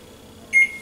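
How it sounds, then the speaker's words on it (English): A kitchen timer gives a single short electronic beep as it is set, clear and close against a faint room hum. "Go ahead and set my timer."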